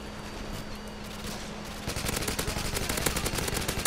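Rapid automatic gunfire in Modern Warfare 2 aimed at enemy aircraft, a dense burst of quick shots starting partway in after a low steady hum and continuing loudly to the end.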